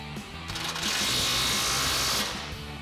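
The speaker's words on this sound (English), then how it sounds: "tighten this end of our track bar back up, get with our 19mm socket on our impact" An impact wrench with a 19mm socket tightens a track bar bolt during a Runner Eibach Pro-Truck coil-over install, making one sustained, loud, close whirring burst of about a second and a half over quiet background music.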